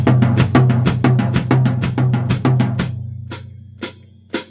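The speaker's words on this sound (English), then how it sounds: "The first one uses the bass drum on the downbeat, and it sounds like this." A drum kit plays fast eighth-note triplets, bass drum on the downbeat, with crisp closely spaced hits over a low sustained tone, then thins out to a few sparse strokes.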